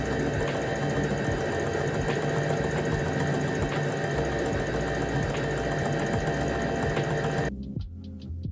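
A sewing machine runs steadily, stitching the side seams of a fall sweater-style top, its loud continuous whirring motor and rapid needle throb holding for about seven seconds before stopping abruptly into quiet.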